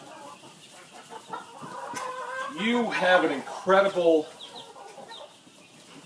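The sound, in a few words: chickens clucking while eating kitchen scraps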